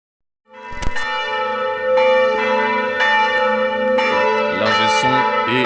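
Church bells ring out loud and full, several bells overlapping in a sustained, resonant peal that keeps swelling without any speech.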